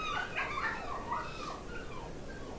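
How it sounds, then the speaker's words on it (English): Dogs in a cluster whimper and whine with high, wavering cries over steady background noise, at moderate volume. "the dogs who, though known for the valor of their breed, were whimpering in a cluster at the head of a ditch"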